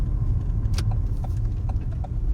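A car eases over to the side of a bypass road between Swansea and Baglan, a steady low engine and road rumble filling the stretch with a few light clicks and rattles from inside the cabin.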